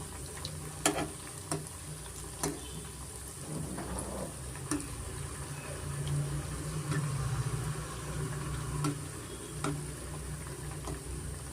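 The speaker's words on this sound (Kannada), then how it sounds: "ಮೀಡಿಯಮ್ ಫ್ಲೇಮಲ್ಲಿ ನಾವು ಫ್ರೈ ಮಾಡ್ಕೊಳ್ಳೋಣ. ಸ್ವಲ್ಪ ಕ್ರಿಸ್ಪಿಯಾಗಿ ಫ್ರೈ ಮಾಡ್ಕೊಬೇಕಾಗತ್ತೆ." Vegetables and bread pieces frying in oil for vegetable bread pulao on a medium flame, a steady soft sizzle throughout with a few sharp clinks of a utensil, no talking.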